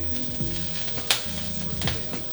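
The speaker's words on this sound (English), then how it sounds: "you drop a little garlic in there just to get some flavoring started" Garlic and thyme sizzle steadily in a hot pan, a close, crackling hiss broken by a few sharp pops and light stirring clinks.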